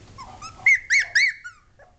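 Three short, high, whiny cries from Sheltie puppies in quick succession, close by, with faint softer yelps trailing after.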